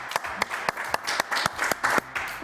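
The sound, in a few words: studio audience applause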